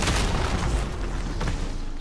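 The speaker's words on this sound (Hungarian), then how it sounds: "Ordinári egy robbanás." A barrel explodes in the video game Marvel's Midnight Suns, a loud, broad boom with a rumbling tail that stays dense and sustained through the whole two seconds.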